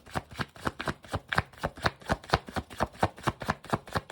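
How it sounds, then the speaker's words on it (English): Rapid, rhythmic riffling of a tarot card deck, a quick steady flutter of crisp slaps repeating many times a second, close and alone. "One more shuffle."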